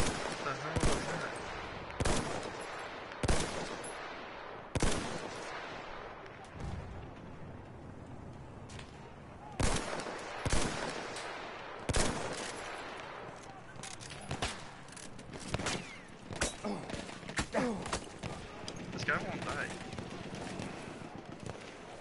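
Gunfire in a multiplayer shooter video game, sharp repeated shots in irregular bursts and single cracks throughout, with players talking over the action.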